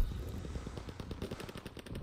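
Rapid gunfire from a pistol in Call of Duty WW2 during a Hardpoint match: a fast, steady string of close, punchy shots with no voices over them.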